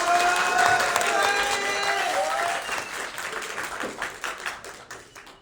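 A crowd applauds at a student union election debate at Epita Lyon with dense, sustained clapping that is loud at first and then thins into scattered claps fading out. Voices murmur faintly underneath.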